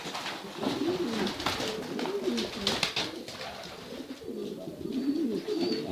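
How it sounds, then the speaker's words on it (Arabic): Pigeons coo in a steady, rolling series of low throaty calls, close and fairly loud, with soft rustling and faint chirps from the birds around them throughout. "تصبح حمامة بالغة قادرة على التزاوج بعد 3 شهور، سواء ذكر أو أنثى"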